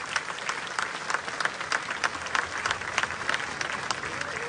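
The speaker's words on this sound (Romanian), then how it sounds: "Aplauze." Outdoor festival crowd in Suceava applauds an orchestra from Chișinău, a dense continuous patter of many hands clapping at moderate distance, steady with small peaks.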